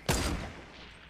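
A single loud, close gunshot from Fortnite, a sharp crack with a brief echoing tail that fades quickly.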